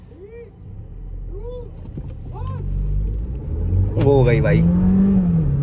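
Volkswagen Virtus GT and BMW X4 accelerate side by side in a drag race, a steady engine roar that swells and rises in pitch, with voices talking over it.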